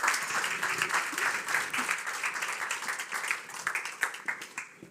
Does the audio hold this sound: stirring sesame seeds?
no